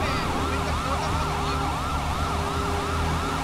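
A video game police car siren in GTA 5 wails continuously in rapid rising and falling sweeps, loud and steady, over a low engine rumble.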